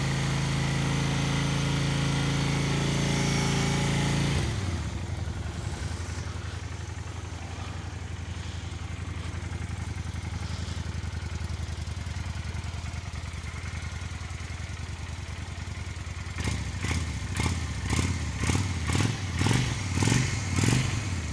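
A Honda Shadow 400 motorcycle engine with 38,000 km on it runs at a low idle, followed by a stretch of quieter running, then a series of rhythmic revving bursts near the end.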